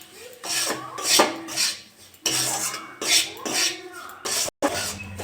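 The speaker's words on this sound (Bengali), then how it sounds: "কড়াটা গরম হয়ে গেছে, আমি একটু ঘি দিয়ে দেবো। গরম হয়ে গেছে, সুজিটা ভেজে নেব।" Semolina (suji) frying in hot ghee in a wok, with rasping, scraping strokes of a spatula against the metal pan in uneven bursts, close and fairly loud, with a brief silent gap near the end.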